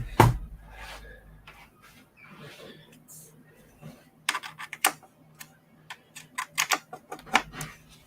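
Light typing on a compact wired computer keyboard: scattered soft clicks at first, then a quicker run of crisp keystrokes in the second half, near and fairly quiet, with a louder knock at the very start.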